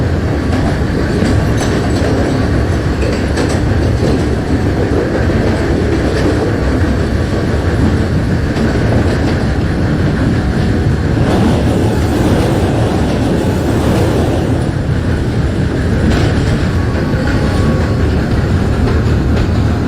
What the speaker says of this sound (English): This is a Queens-bound F local train.